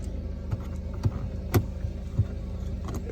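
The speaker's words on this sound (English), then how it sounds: "Remote lift gate here in the rear." A 2014 BMW X3's remote power rear lift gate operates with a low motor hum and a few distinct clunks and latching thumps, close and alone.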